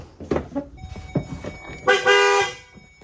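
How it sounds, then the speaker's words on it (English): Newly installed horns on a 2008 Chevy Duramax truck honk close and loud, a short toot followed by a longer sustained blast after some brief clicks. "New horns in the new spot, new bracket, wired up"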